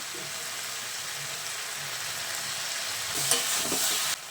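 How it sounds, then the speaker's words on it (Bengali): Vegetable curry sweetened with a little sugar frying in a pan, a steady close sizzle and hiss with soft stirring scrapes, louder clattering briefly near the end. "এগুলোকে ভালো করে নেড়ে চেড়ে নিয়ে"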